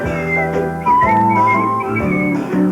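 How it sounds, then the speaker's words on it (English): A tune is whistled clearly and loudly up close in sustained melodic notes, with a faint background accompaniment. "Come on, whistle."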